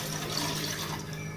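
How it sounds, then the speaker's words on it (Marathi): Water splashes into a pan for a homemade ayurvedic kadha, about a glassful poured in one steady, close, gurgling stream across the whole moment, with no talking. "1 ग्लासच्या थोडंसं वर पाणी घातलंय"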